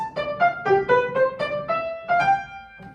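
Solo piano plays a short Mozart melodic idea, a sequence of distinct sustained notes in a gentle, moderate rhythm, close and clear with no talking.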